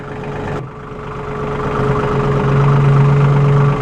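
A Massey Ferguson 1734E compact tractor with a gear transmission idles steadily nearby, front wheels raised by the loader hydraulics, giving a constant low drone with a faint whine that firms up slightly toward the end.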